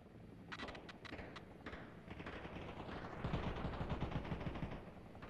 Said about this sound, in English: we're taking artillery